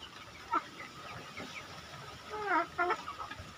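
Chickens cluck in short bursts, a few close calls standing out over a steady hum of background noise.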